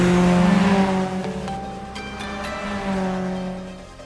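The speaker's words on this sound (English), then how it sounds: "So this is what a supercharger feels like from the inside." Supercharged car engine heard from inside the cabin while driving, a loud steady drone that rises and falls slightly in pitch with throttle, no talking.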